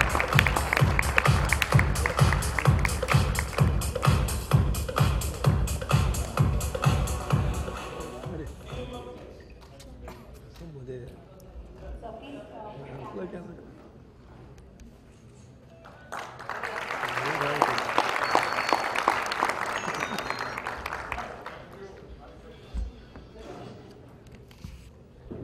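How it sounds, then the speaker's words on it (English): Audience applause at a stage felicitation ceremony opens with fast, rhythmic clapping, fades to a quieter murmur, then swells again in a later burst of crowd noise, fairly distant throughout. "A big round of applause, ladies and gentlemen."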